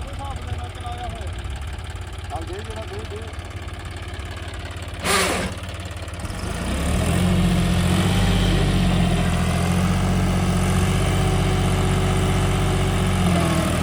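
A John Deere 5210 4x4 tractor engine, fitted with an 11-tine implement, idles steadily, then its low rumble grows louder and stronger midway, running continuously near with voices speaking over it.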